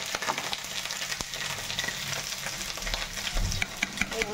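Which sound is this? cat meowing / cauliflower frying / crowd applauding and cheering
cauliflower frying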